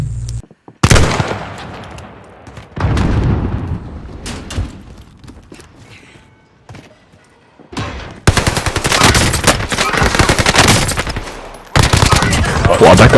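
Owen submachine gun fire in a Call of Duty match, loud rapid bursts coming in several separate strings, with a short lull in the middle and long sustained volleys toward the end.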